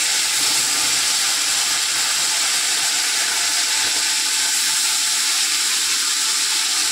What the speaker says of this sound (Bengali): তো মাছগুলো ভেজে নেওয়া হচ্ছে